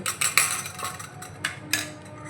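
A spoon scraping and tapping against a bowl while milk and curd yogurt are stirred together, a few sharp clinks over a soft mixing swish.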